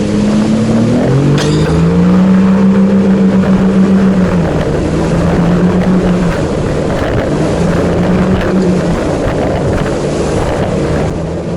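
A motorboat engine drones loudly and steadily, its pitch rising and dipping as the throttle is feathered over rolling waves, with wind buffeting the microphone throughout.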